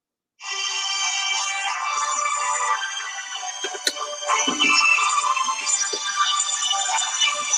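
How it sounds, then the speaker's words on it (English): A phone rings with an incoming call, a steady electronic ringtone starting abruptly after a brief silence and continuing close and fairly loud, with a few small clicks and rustles partway through. "And we're getting a phone call."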